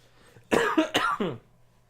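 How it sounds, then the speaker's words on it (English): A short burst of several close, raspy coughs in quick succession, with quiet room tone before and after. "I had to cough."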